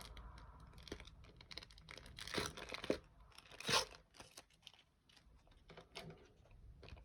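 Crinkly plastic packaging being torn open during a stationery haul, a run of close, quiet crackles and rustles with a few sharper tearing bursts, with no talking.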